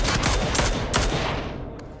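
Rapid gunfire from a PUBG Mobile match in a competitive esports group stage, loud bursts of shots cracking in quick succession before tailing off.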